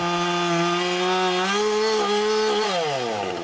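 A fuel-injected chainsaw with 70cc-class power in a 50cc-size body running steadily at high revs, loud and close, its pitch rising slightly and then dipping near the end.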